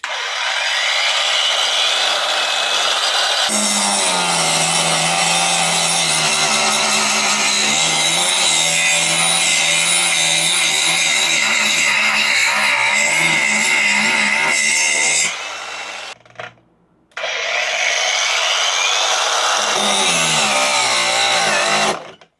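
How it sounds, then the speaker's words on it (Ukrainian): A loud angle grinder screams continuously under heavy strain, cutting out briefly before spinning back up to full, harsh power. "Ось я задавив цю болгарку от так, як зі всієї сили."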